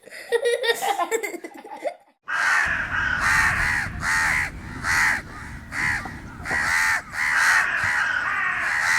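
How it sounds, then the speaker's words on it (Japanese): Large flock of crows cawing repeatedly in loud, overlapping bursts, wind noise rumbling underneath, with a short stretch of music before the calls begin. "とてつもないカラスが大量に飛んでますね。"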